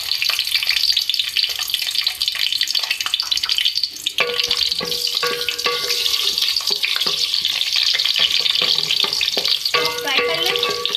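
Whole spices, green and red chilies, ginger and garlic sizzling steadily in hot oil for a Nawabi chicken dish, a loud continuous crackle with scraping stirring sounds throughout.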